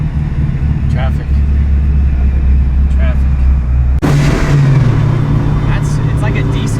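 A Mitsubishi EVO 9 with a turbocharged 2.3-liter stroker engine rumbles loudly while driving, a low heavy drone that shifts up in revs midway as the car pulls, with people talking over it inside the cabin.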